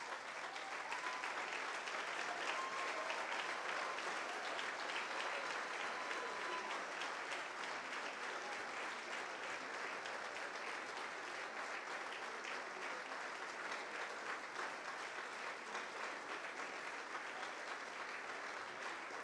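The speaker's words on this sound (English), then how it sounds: "please stand up and give him an unceasing round of applause" A conference audience standing and giving a long, unbroken round of applause, dense steady clapping from many hands that holds at an even level throughout without any voices rising above it.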